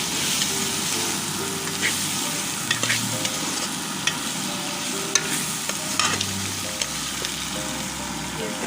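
Potato pieces sizzle steadily in hot oil in a pan while a spoon stirs them, scraping and clinking at close range, with faint background hum.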